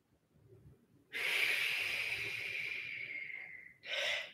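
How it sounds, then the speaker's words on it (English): A long, deep breath during a Pilates mat exercise, a strong airy exhale lasting nearly three seconds, then the start of another breath; close to the microphone with no talking. "Big breath in."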